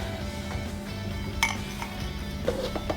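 A utensil stirs banana bread batter in a bowl, making faint clinks and scrapes against the side over a low steady hum.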